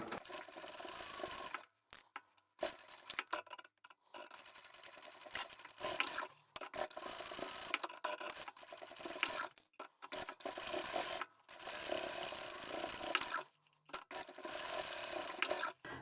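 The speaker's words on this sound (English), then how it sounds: "There's a lot of bulk in here, so I'm going to stitch this a couple of times." Sewing machine stitching through bulky fabric seams, running in long steady close whirring passes broken by several short stops, repeated over the same seam.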